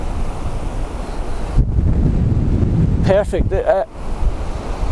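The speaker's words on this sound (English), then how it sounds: "And it is extremely windy. It's not cold, but that wind is pretty rough." Strong, steady wind buffets an open beach at the Bouctouche Dunes, a rough broadband roar with surf mixed in, continuing throughout while a person speaks briefly near the end.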